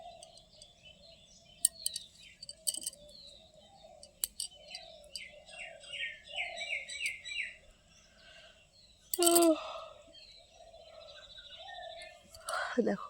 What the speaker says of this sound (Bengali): পাখিদের কত রকম গুঞ্জন শোনা যাচ্ছে